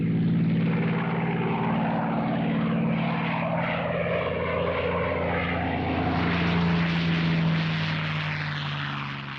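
A World War II P-51 Mustang fighter's propeller engine drones loud and steady at close range, with a deep sustained roar that holds level throughout and no voices.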